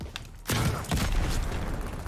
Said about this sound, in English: Wait, this is a shotgun.